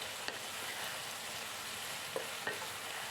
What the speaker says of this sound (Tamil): சேர்த்துட்டு அதையும் இந்த ஆயில்லையே ஒரு 2 நிமிஷம் நல்லா வதக்கி விட்டுறலாம்.